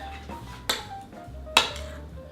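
A utensil works grated Parmesan into ricotta in a bowl for ravioli filling. There is a steady soft scraping, and two sharp clinks of spoon against the bowl stand out, with no talking.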